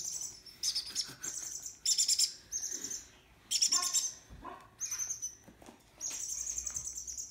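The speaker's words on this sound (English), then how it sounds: "I can hear my African grays having sex in the other room." African grey parrots call from another room, a run of sharp, high chirps and squawks in bursts with short gaps, moderately loud and with no talking over them.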